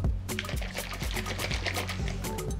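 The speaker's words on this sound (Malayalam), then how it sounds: "അപ്പോൾ വെള്ളം കൂടി ആഡ് ചെയ്യാവേ" Water is poured into a smoothie blender jar for a green detox smoothie, giving a steady, fairly quiet gurgling trickle over a low hum.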